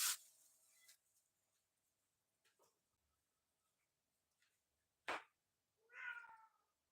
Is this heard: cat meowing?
yes